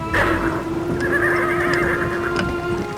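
A horse neighs loudly and close in an animated 3D scene, a long wavering whinny over the whole stretch, with faint hoof clip-clops in the background.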